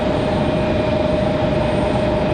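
A Southwest Boeing 737 MAX 8 arriving at Raleigh-Durham International gives a loud, steady jet roar with a thin whining tone riding on top, unbroken throughout the brief moment.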